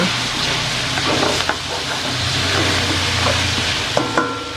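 Food sizzles steadily in a hot pan, with occasional scraping and stirring clinks over the constant frying hiss.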